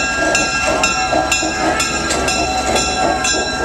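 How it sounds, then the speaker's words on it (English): A small ride-on train at an Easter event rumbles steadily along its track, with a constant mechanical drone and faint periodic clacks, loud and close throughout, with no talking. "You see the train?"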